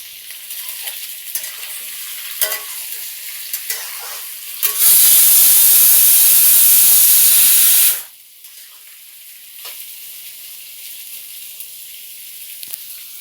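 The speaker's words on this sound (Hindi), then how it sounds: "लहसुन भी डाल देते हैं साथ में, अच्छे से फ्राई हो जाएगा। अब इसको हम चला देते हैं अच्छे से।" Garlic and onions fry in a kadhai while they are stirred, keeping up a steady sizzle with scraping strokes. A loud, even hiss of steam bursts in for about three seconds in the middle.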